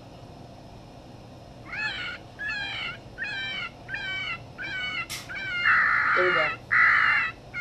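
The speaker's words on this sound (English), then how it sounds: "Then we're going to do cottontail and crow." Electronic predator caller playing a coyote-hunting setup of cottontail rabbit distress cries and crow calls: a series of loud, repeated wavering squeals and caws in regular bursts outdoors, with a brief spoken remark partway through.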